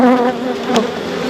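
Honeybees buzz steadily inside an Apimaye hive box, a close, dense drone with a brief louder swell as the frames are disturbed.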